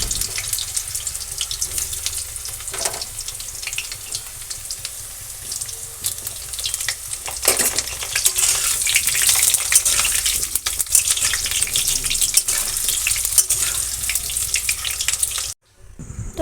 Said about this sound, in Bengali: তো আজকে মটনটা আমি আলু দিয়ে করব, তো এই জন্য আলুগুলোকে প্রথমে ফ্রাই করে নিচ্ছি।